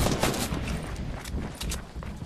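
Gunfire in Fortnite, a quick cluster of sharp cracking shots with a short burst of rapid fire, loud and close across a couple of seconds.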